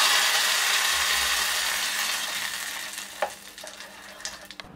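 Hot tempering poured into ground chutney for masala dosa bursts into a loud hissing sizzle that fades gradually, followed by a few sharp clinks and taps of a utensil, close and with no talking.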